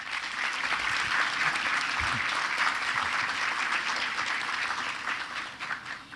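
An audience applauds women lawyers at an OAB (Brazilian Bar Association) event in Cajazeiras, a sustained, full round of clapping that stays strong throughout and eases slightly at the end.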